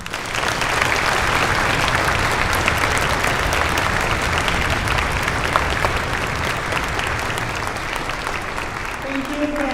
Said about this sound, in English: let's show them just how grateful we are with one more round of applause.